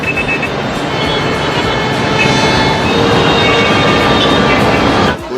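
Loud, chaotic street noise in Cairo with a passing train: a dense, continuous roar of traffic and rail rumble fills the scene up close, dipping briefly at the very end.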